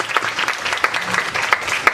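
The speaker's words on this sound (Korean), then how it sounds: "박수 부탁합니다" An audience at a university presidential candidates' public debate applauds in a brief, dense burst of steady clapping from a roomful of people, close and fairly loud.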